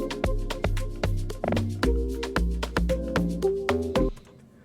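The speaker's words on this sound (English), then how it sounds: "the second set of log drums was going to sound like this when it drops." A second set of amapiano log drums lands on a steady, bouncy pattern of deep, round pitched thuds, each hit with a short decaying tail, under tight clicking percussion and light chord stabs, stopping abruptly near the end.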